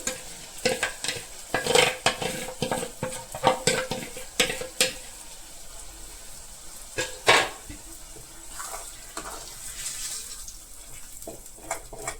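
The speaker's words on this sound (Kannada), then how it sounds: "ನಂತರ ಅದಕ್ಕೆ ಕಡಲೆ ಹಿಟ್ಟಿನ ಮಿಶ್ರಣವನ್ನು ಹಾಕಿ ಚೆನ್ನಾಗಿ ಮಿಕ್ಸ್ ಮಾಡ್ಕೊಳ್ಳಿ" A spoon or spatula works a thick besan gram flour mixture for veg cutlets in a pan, making repeated wet scrapes and clanks over a light sizzle. The stirring is close and uneven, busier in the first half, and no one speaks.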